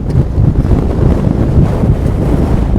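Strong wind buffeting the microphone on the Cheviot border ridge, a loud continuous low rumble with gusty swells and no voices.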